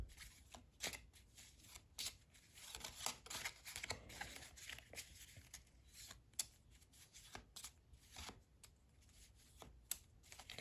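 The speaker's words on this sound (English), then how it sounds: "we'll go through the obligatory cards. So we'll just shuffle those." A deck of game cards for a World War I tabletop wargame is shuffled by hand in a quiet room, making rapid, crisp riffling and snapping bursts in an irregular rhythm.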